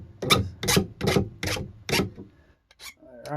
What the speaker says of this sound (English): I'm just going to use my trusty file here to trim up any sharp bits.